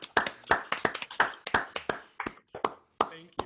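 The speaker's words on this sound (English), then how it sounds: "I'm going to applaud you right now" One person claps their hands at a steady, moderately quick pace during a virtual recital gathering, with about a dozen crisp, close claps and a short pause before the last few.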